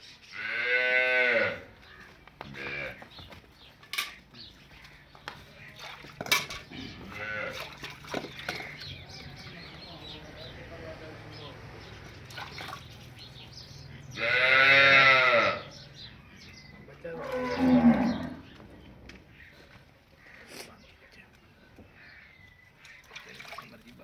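Nili buffaloes and Cholistani Friesian-cross cows on a farm in Pakistan give several long, loud moos spaced apart, with faint background noise and occasional sharp knocks between the calls.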